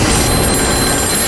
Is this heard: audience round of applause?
no